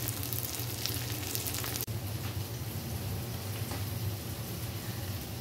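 Garlic and onion sizzle together in a hot pan, a steady dense crackling hiss with a brief sharp click near the two-second mark, close and fairly loud with no talking.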